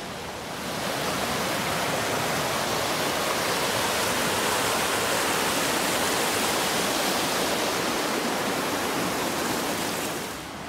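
River water flows loud and steady, a continuous broadband rush like a fast stream or cascade that stays even from start to finish, with no voices.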